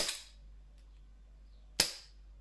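Two sharp, close gas pops from a Sig Sauer P226 E2 gas airsoft pistol running low on gas, one at the start and one near the end, with near silence between.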